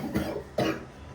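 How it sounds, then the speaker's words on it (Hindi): Two short, close coughs from a sick person, each a sharp burst followed by a quieter tail, spaced about half a second apart. "खांसी को इग्नोर करते हैं।"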